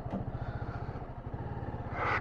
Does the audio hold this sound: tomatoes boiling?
no